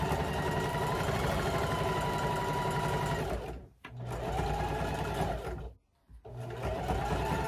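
A sewing machine stitching heavy farmhouse kitchen fabric, running in a steady close whirring hum that stops briefly twice and then starts again.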